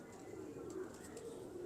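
A pure pigeon, a pigeon breed with a cutting 'too too' call, coos in a low steady murmur that runs throughout, with faint chirps above and a soft hum of background noise.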